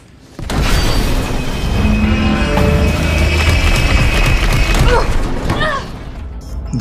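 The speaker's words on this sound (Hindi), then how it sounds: "धमाके से ट्रेन पलट जाती है," A video game explosion overturns a train in Resident Evil 3 Remake: a heavy booming blast followed by a long roaring rumble with metallic creaks and screeches, loud and close, fading slightly toward the end.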